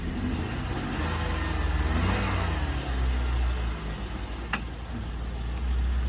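A Nissan Sentra engine runs steadily at close range, with a brief rev partway through and a constant low rumble throughout.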